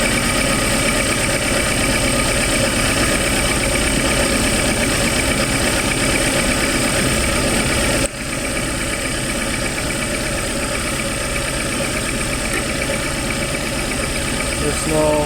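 Suzuki APV engine idling roughly and shaking from a single faulty ignition coil, a steady loud mid-pitched running drone throughout with a slight drop partway, under occasional talk.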